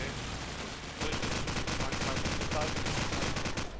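Rapid gunfire in a competitive shooter video game match, dense automatic bursts rattling loudly and continuously, growing heavier after the first second, with a commentator's voice faintly mixed underneath.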